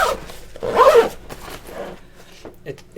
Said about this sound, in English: If I pull my zippers up, I guess.